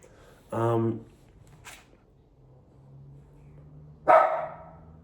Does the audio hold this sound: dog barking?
yes